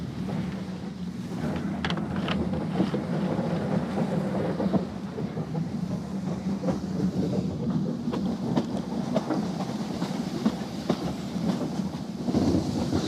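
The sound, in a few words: steam train running along the railway line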